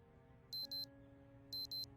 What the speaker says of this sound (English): Let's turn that alarm off.